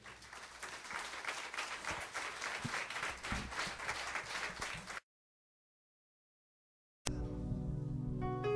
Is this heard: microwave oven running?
no